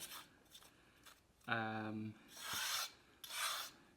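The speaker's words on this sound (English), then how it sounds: "So after a reasonable amount of grinding," Black coal being ground into pigment, heard as short rough rasping and scraping strokes, close and fairly quiet, mixed with a brief voiced sound and a few breathy rubs.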